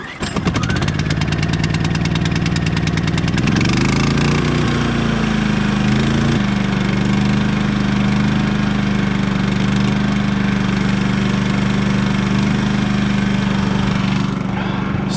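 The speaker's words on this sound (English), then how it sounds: "So we're going to push that generator hard again, so we're just going to let it warm up a little bit here" A 3000W portable generator engine starts and settles into a steady, loud idle as it warms up, its drone close and continuous throughout.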